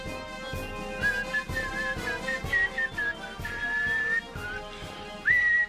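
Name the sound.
person whistling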